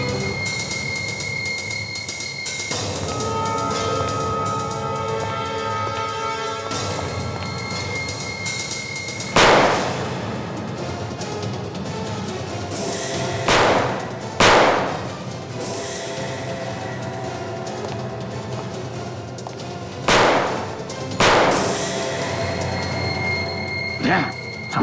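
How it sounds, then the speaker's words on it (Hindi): A shootout with several loud, sharp gunshots spaced apart over a dramatic background score, and dialogue in between. "गोली संभाल के चलाना, कहीं सोनाली को गोली लग न जाए"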